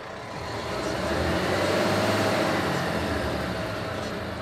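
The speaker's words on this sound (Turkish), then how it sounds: "Gaz veriyoruz." A Renault Trucks Euro 6.2 diesel engine revs under throttle, its dense roar rising over the first second, holding steady and loud, then easing slightly at the end, with no speech.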